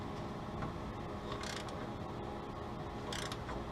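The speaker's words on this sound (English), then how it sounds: "That's when you grab the right wrench." Wrench ratcheting on a bolt while fitting a radiator in a Willys, two brief bursts of metallic clicking over steady workshop background noise.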